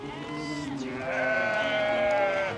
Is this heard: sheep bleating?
yes